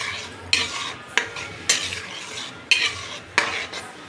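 Yogurt is stirred into a fish curry in a pot. Repeated spoon strokes scrape and clatter against the metal about every half second, over a low simmering sizzle.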